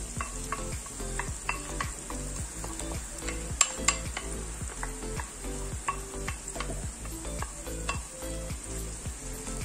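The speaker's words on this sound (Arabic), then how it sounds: "وغادي نحرك هذه المكونات كامله مع بعضياتها، وغادي نخليه حتى البصيله تشحر مع الثومه والفلفله" Onion frying with garlic and pepper in a pan, sizzling steadily while a utensil stirs it in a repeated scraping rhythm, close and continuous, with no voices.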